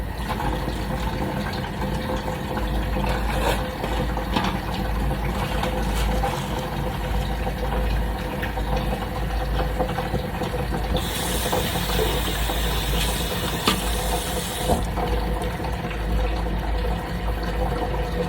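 A tap runs steadily to fill a basin with clear water for rinsing synthetic wigs, a continuous close hiss and gurgle under low water pressure that brightens for a few seconds midway through.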